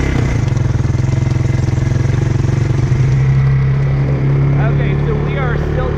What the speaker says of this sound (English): what we're going to use our four-wheeler and we're going to go around the fence line